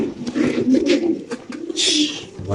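A pigeon at a pigeon farm coos in a few soft, rolling calls close by, with faint voices in the background.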